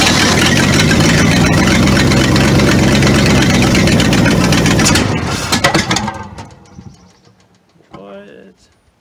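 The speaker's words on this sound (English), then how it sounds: "I'll just keep cranking on until I kill the battery pack" An Asplundh JEY wood chipper engine runs loud and close, a rough steady mechanical roar that falters and dies away after about six seconds, leaving faint rattles and a brief quiet voice.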